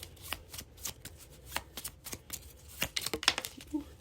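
Tarot cards are shuffled by hand in a rapid series of soft, close riffling and slapping sounds. The clicks come in irregular clusters, faint and quiet, with no talk over them.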